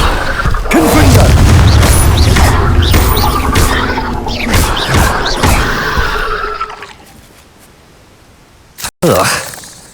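Loud blasting-spell explosions from Hogwarts Legacy, a series of heavy booms and crashing impacts over several seconds, fading into a quieter rumble before one sharp final blast; no talk.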